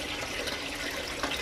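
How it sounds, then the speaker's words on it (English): Clear water gushes steadily out of a car's cooling system during a coolant flush, a constant loud splashing flow close by. "we've got pretty much clear water coming out now"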